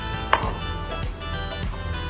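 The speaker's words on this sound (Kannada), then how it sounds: "ನೀಟಾಗಿ ಕಟ್ ಮಾಡಿಕೊಂಡು ಇದನ್ನೆಲ್ಲ ಸ್ಲೈಸ್ ಮಾಡ್ತೇವೆ" A knife cuts through lemons on a board for pickle, giving a few distinct close chops spaced about half a second apart over a quiet background.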